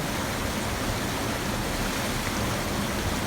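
Fast tidal water rushing through Chiveli creek in the Konkan mangroves near Chiplun, Ratnagiri: a dense, constant roar of flowing water, loud and close, with no voices.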